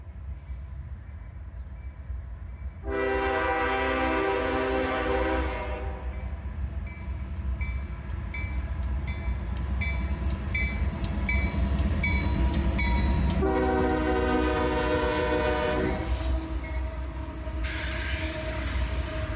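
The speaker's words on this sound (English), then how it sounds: "A pair of GEs lead a southbound autorack train" A CSX southbound autorack freight train led by two GE locomotives rumbles past continuously, its horn blaring in two long harmonic blasts over the heavy rolling noise of cars on the rails.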